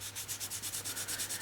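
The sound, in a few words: sanding a surface with 120-200 grit sandpaper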